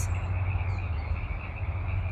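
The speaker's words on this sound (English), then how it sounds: "I don't know if you can hear the chorus of frogs that just started behind me." A chorus of frogs croaks steadily outdoors, a dense continuous layer of overlapping calls with a low throbbing hum underneath, moderately loud and unbroken, with no one talking.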